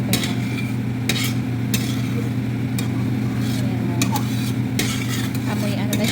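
Coconut milk and brown sugar cook down into coco jam in a pan while being stirred, making a steady bubbling sizzle with periodic scraping strokes of the utensil against the pan, close and continuous.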